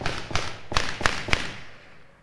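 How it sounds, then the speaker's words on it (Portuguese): A handful of sharp, distant gunshots, about five cracks in quick irregular succession, echoing faintly against a quiet background. "Tiros, hein?"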